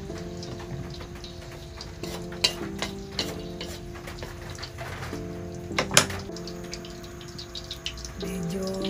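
Whole tilapia frying in hot oil in a home kitchen pan, giving a steady close sizzle with scattered crackles and pops that run through the whole stretch.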